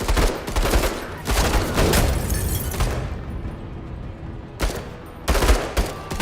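Squad gunfire in the Menace tactical video game: dense bursts of rapid shots and booming impacts, loud and close, with a short lull before more bursts near the end.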